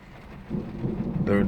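Thunder rumbling low through steady rain during a thunderstorm, heard from inside a vehicle, with the rumble swelling louder near the end.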